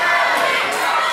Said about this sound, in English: Listen to the crowd here chanting for Joey Adams